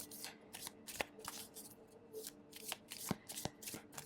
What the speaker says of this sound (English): I'm going to pull an additional card for you.